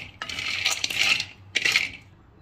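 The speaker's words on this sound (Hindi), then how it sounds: "मूंगफली को हम बिना तेल के सूखा ही भून लेंगे।" Peanuts dry-roasted without oil in a pan, heard as bright rattling clatters of nuts shaken and stirred against metal in two short bursts, close and without talk.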